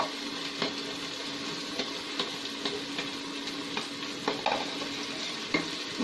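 Spinach puree sizzles steadily in a pan of frying chole as a spoon stirs it, with soft scraping knocks recurring every second or so over the constant close frying hiss.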